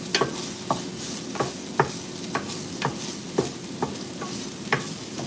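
Minced beef sizzling in a pan, a steady frying hiss punctuated by regular scrapes and taps of the utensil roughly every half second.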